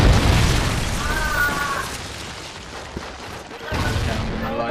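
Trinity rocket killstreak explosion in Call of Duty Ghosts on the Prison Break map, a heavy booming blast at the start that rumbles on through the clip, with a second surge of roar near the end amid game noise.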